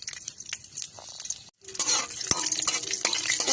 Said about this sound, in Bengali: এবার আমরা ওই মাছ ভাজা তেলটার মধ্যেই কালো জিরে ফোড়ন দিয়ে দিলাম।